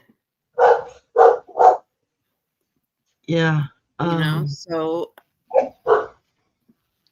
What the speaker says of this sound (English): yes, puppy, I hear you